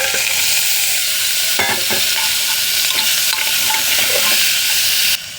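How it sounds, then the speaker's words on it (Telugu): Potatoes and tomato fry in a pan while being stirred, a loud close hissing sizzle broken by repeated scraping strokes of a spoon, cutting off abruptly just before the end. "బంగాళదుంప వేగేంత వరకు ఇలా కలుపుకోవాలి"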